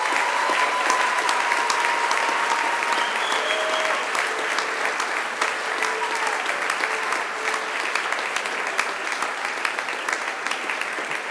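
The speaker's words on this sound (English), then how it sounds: "please give them a great round of applause for what they've done for you" Sustained, dense applause fills a graduation hall as graduates clap for their families and friends, steady and loud for the whole stretch with no voices standing out.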